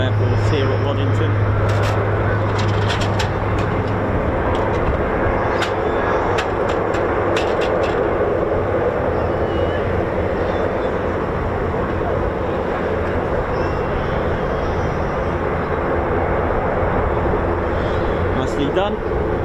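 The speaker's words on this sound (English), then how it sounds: "Oh, the A400 is now taxiing." An Airbus A400 military transport aircraft taxiing at RAF Waddington, a steady, loud broadband turbine roar that fills the whole stretch without fading, with voices murmuring in the background.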